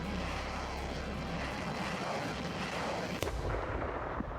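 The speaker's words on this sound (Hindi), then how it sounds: "रूस के मिसाइल अटैक की गड़गड़ाहट से एक बार फिर पश्चिमी यूक्रेन दहल उठा।" Rumbling from a Russian missile attack on western Ukraine forms a heavy, continuous distant roar, with one sharp crack-like burst near the end.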